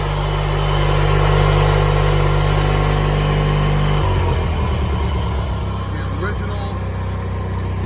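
An older vehicle's engine idles through its original stock muffler with a close, loud, steady low rumble that shifts to a slightly rougher, pulsing tone partway through.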